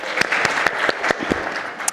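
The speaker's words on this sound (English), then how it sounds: "So another round of applause for Dr. Burhanu." An audience at an ECW show gives Dr. Burhanu a round of applause, a dense, steady clatter of clapping with a few louder individual claps popping out near the end.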